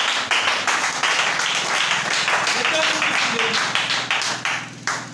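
Loud audience applause with sharp claps fills a church gathering, dense and sustained throughout with a few louder bursts, voices faintly mixed in.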